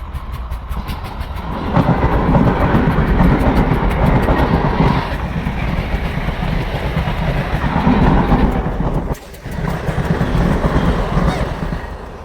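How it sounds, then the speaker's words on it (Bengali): A train runs past on a railway track close by, a loud rumbling roar with rhythmic clickety-clack of wagons over the rails that swells and persists for several seconds, with faint voices in the background. "এই যে আমাদের ট্রেন।"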